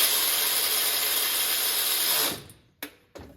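A power tool runs steadily and loud while tightening bolts on a Ford 7.3 Powerstroke oil cooler, then cuts off, followed by two short sharp clicks in near silence.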